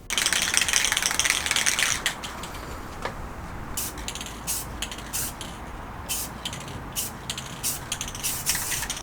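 A spray can hisses loudly in one long burst at the start while a trucker hat is painted, then several shorter sprays follow in quick, rhythmic bursts over a steady background rumble.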